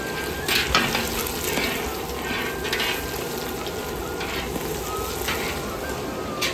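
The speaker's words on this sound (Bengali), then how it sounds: "এদিকে মাছ ভাজা হচ্ছে" Fish fries in a pan of hot oil in a home kitchen, a loud, steady crackling sizzle close by with occasional stirring scrapes and no talking.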